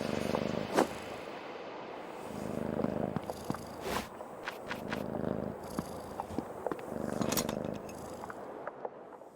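A cat purrs steadily in the video game Creepy Tale 2, a close, continuous rumbling drone broken by a few sharp clicks and small mechanical ticks.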